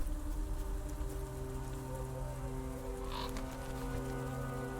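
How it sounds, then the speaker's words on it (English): Steady rain falls at night in the video game Vlad Circus: Descend into Madness, a constant hiss of drops with a low ambient hum beneath and one brief faint tone, with no voices. "Mr. Petrescu, what are you doing out in the rain in the dark?"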